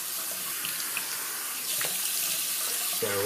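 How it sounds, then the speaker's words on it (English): Water runs steadily from a bathroom tap into a sink while a man rinses his face after shaving, a close, continuous hiss that grows fuller midway, with a brief pitched tone near the end. "Just gonna rinse off here and then apply my aftershave."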